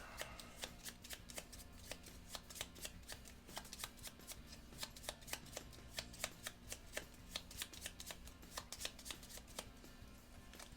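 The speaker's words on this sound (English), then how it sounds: "I pick up all of these cards that have been discarded, and I'm going to shuffle them all back together" A deck of game cards is shuffled during a solo tabletop game of Tiny Epic Tactics, a long run of quick, crisp riffling snaps and taps close by, with no talk.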